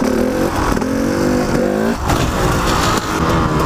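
A stunt motorcycle engine revving hard during a standing one-handed wheelie, a loud, close, sustained roar with rising pitch and brief throttle dips.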